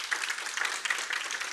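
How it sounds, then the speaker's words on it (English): Conference audience applauding the end of animal-welfare presentations, a dense, steady patter of many hands clapping at moderate distance, continuous throughout with no voices. "we give a round of applause to Lucie and Christian"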